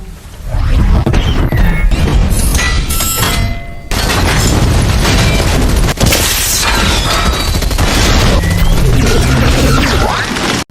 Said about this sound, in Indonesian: Tony menyuruh Kolonel James untuk menggunakan senjata andalannya dan tembak-tembakan pun terjadi